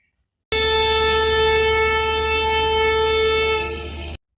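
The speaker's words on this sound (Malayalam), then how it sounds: "കേരളത്തിന് അനുവദിച്ചു കിട്ടിയ 3 പ്രതിവാര അമൃത് ഭാരത് എക്സ്പ്രസ് ട്രെയിനുകളിൽ ഒന്നായ ചെർളപ്പള്ളി തിരുവനന്തപുരം നോർത്ത് ട്രെയിൻ ഓടിത്തുടങ്ങി." An Amrit Bharat Express train, the Cherlapalli–Thiruvananthapuram North service, sounds a long, loud, steady horn blast that begins abruptly and cuts off after about three and a half seconds.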